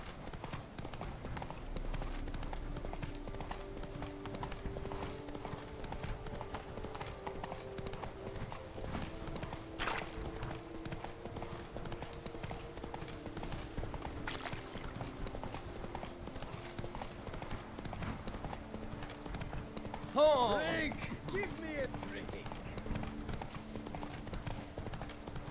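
Horse hooves clip-clop in a steady trotting rhythm throughout a stretch of The Witcher 3: Blood and Wine, moderately close beneath ambient game sound, with a brief whinny-like burst near the end.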